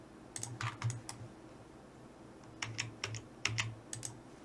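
A computer keyboard is typed on during Revit MEP electrical modeling, including a press of the Tab key, in two short bursts of close, quiet keystrokes.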